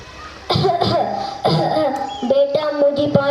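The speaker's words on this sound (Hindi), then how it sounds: "बूढ़े को कितनी खांसी आ रही है" An old man coughs several times in harsh, loud bursts, with a voice and some laughter mixed in between them.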